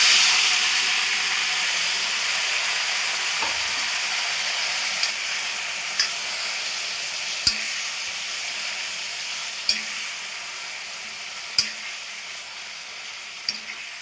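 Pieces of precooked mutton frying in a pan, a steady broad sizzle and hiss running throughout, punctuated every couple of seconds by sharp clinks of a spoon stirring against the metal.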